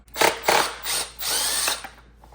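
A power tool spins out a 10mm bolt on a Honda VTX motorcycle cover in a few short, whirring bursts that rise and stop, the last burst longer than the rest.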